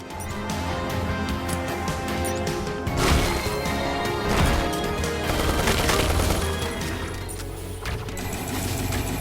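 Rapid gunfire, rockets and explosions from the twin-stick shooter game Neon Chrome crash and burst densely throughout, loud and continuous with several heavier blasts.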